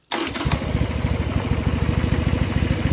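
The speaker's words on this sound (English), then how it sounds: "So let's go ahead and fire it up. Key on and hit the button." A Harley-Davidson Sportster with factory mufflers fires up almost immediately and settles into a loud, close, lumpy idle with a steady uneven throb, no voices over it.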